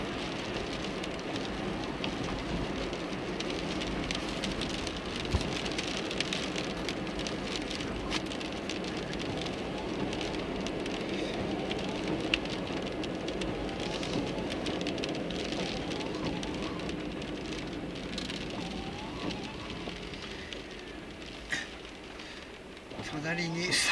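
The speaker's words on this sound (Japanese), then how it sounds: "雨が結構降ってきたよ。" Steady rain falls with a constant hiss and patter, occasional louder drops tapping nearby, continuing unbroken throughout.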